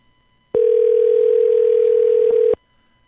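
A steady telephone dial tone sounds loud and close while making a call, a single unbroken tone lasting about two seconds that starts and stops abruptly.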